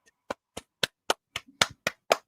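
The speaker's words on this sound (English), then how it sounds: "Big applause." Hand clapping during a wrestling livestream, heard as eight sharp, evenly spaced claps in a steady rhythm, close and fairly loud, with no talking.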